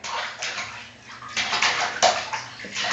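Water sloshes and splashes in a bathtub as someone bathes, with irregular close splashy bursts and surges of running water.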